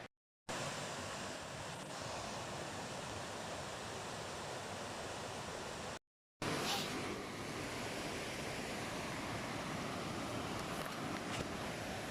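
River water flows in a steady, faint rushing wash, broken by a short gap of silence, continuous and even throughout with no voices.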